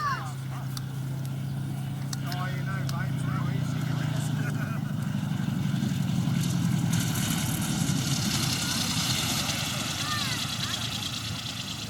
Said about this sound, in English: Here's Glenn bringing it in for a landing